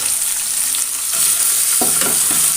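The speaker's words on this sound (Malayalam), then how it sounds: "അത് നല്ലോണം ഇതേപോലെ ഒന്ന് നല്ലോണം വാട്ടിയെടുക്കാം" Green chilies with ginger garlic paste sauté in a hot pan, a steady bright sizzle broken by a few scraping stirs of a spoon near the end, close and continuous.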